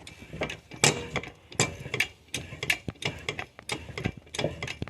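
A ratchet tightening a bolt on a high-mileage half-ton pickup: a quick series of close clicking bursts comes in irregular groups, each stroke a short rattle of pawl clicks, loud and alone without talk.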